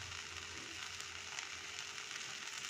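Ghee sizzling as bread fries in a pan, a soft, even hiss that continues steadily throughout without pauses, faint and close.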